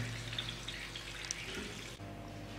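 Water drains from an electric water heater tank being repaired, with a soft steady trickle and gurgle running quietly and continuously at close range.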